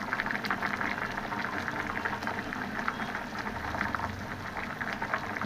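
Fish curry bubbles steadily in a pot with a close, continuous boiling gurgle and small popping bubbles throughout.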